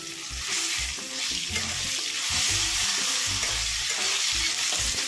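Chopped tomatoes frying in oil in a pan for a Bengali boal fish curry, a loud continuous sizzle close up, with repeated low scraping and knocking of a spatula stirring them.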